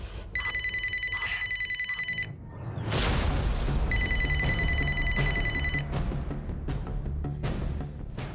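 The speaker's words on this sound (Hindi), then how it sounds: "फोन लगा उसे।" A telephone rings in two long electronic bursts of rapid trilling, separated by a short gap, during a crime drama scene, with a heavy low rumble and scattered thumps underneath.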